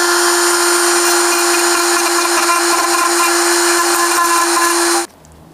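Steady high-pitched whine of a power tool running at constant speed while a casing is prepared for a sensor installation, loud and close, then cutting off abruptly near the end.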